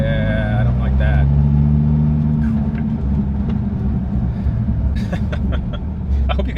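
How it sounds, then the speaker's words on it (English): A car on big tires spinning its wheels: a heavy, continuous engine rumble rises as it revs, with someone talking over it. "There we go. Wheel spin."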